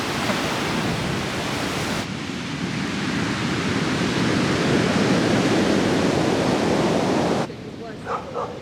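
Heavy storm surf on a Montenegro pebble beach roars continuously as waves crash on the shore, a loud broad wash that swells and then drops away near the end.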